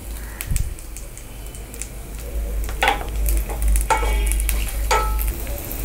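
Green chillies, curry leaves, dried chillies and turmeric crackle and sizzle in hot oil in a pan, with scattered stirring scrapes and soft pops, close and fairly quiet.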